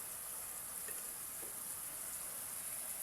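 Noodles stir-fried in a pan with chicken and Chinese kale, giving a quiet, steady sizzle and a faint scraping of the stirring throughout.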